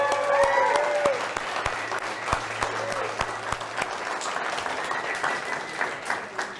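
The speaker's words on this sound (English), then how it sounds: "Can we get a big hand for Candace, please?" Audience applause at a spring tech fest celebration, steady scattered clapping from a crowd with a few sharper nearby claps, carrying on at moderate level while a voice briefly speaks over it at the start.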